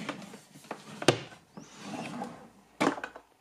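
A wooden drawer in a music studio is pulled open with scraping, rubbing slides and a few sharp knocks, quiet and close, with no talking.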